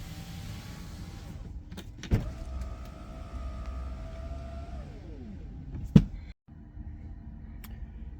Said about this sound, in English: So we'll start with putting all the windows down.